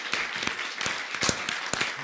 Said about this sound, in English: please give a round of applause to our guests here